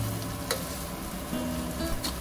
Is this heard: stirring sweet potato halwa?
yes